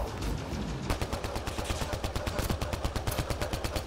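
Rapid automatic gunfire in the sci-fi shooter Mass Effect Andromeda during a multiplayer match, a loud steady stream of shots with a fast, even rhythm that continues throughout.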